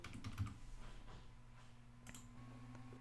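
Keys tapped on a computer keyboard while entering a password during a Peppermint 10 Linux install, a short run of soft, close clicks at the start fading into quiet room hum.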